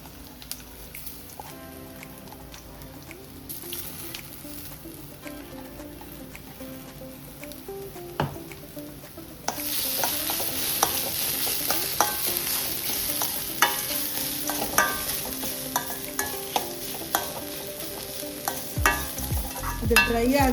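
Ground coconut chutney mixture with onion and curry leaves being sautéed and stirred in a pan until dry, a soft continuous sizzle with scraping stirs that grows louder and brighter partway through.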